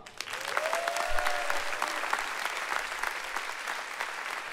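A comedy show crowd in Toulouse breaks into loud, sustained applause, dense clapping that fills the room, with a brief whistle rising over it near the start.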